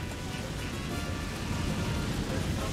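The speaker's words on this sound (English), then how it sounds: "Sir, an enemy tornado has infiltrated our defenses." An enemy tornado strikes in the video game Tropico 4, a dense, steady roaring rush of wind and rain-like noise with deep rumbling underneath, loud and unbroken throughout.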